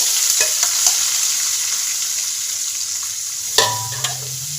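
Onion, ginger and garlic sauté in hot ghee, a steady close sizzle with occasional spoon scrapes and a louder stirring clatter near the end.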